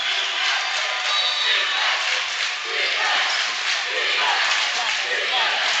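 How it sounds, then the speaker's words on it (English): Loud, sustained roar of a high school basketball crowd on their feet cheering in a gym, a dense wall of voices that swells and dips, with a commentator speaking over it. "Crowd on their feet."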